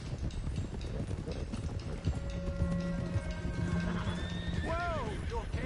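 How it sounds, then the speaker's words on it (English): A loose stallion in Red Dead Redemption 2 gives a loud, rising-and-falling whinny near the end, over a steady clatter of trotting hooves and background game noise. "One of the stallions is loose."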